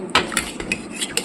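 Metal cutlery clinks against plates and pots while meat curry, boiled potato and bitter gourd, raw onion and lemon are served onto a plate, a handful of sharp close taps spread unevenly across a short moment, with no voices.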